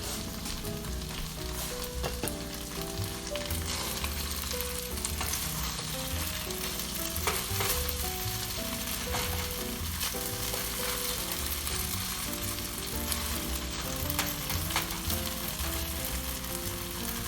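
Philly cheesesteak filling of meat frying in a pan, a steady loud sizzle and crackle running throughout with occasional stirring scrapes and no talking.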